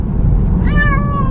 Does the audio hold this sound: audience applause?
no